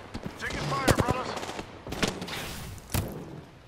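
Short bursts of gunfire in the Apex Legends video game crack out a few times over a few seconds, mid-distance, against a busy background with a voice mixed in.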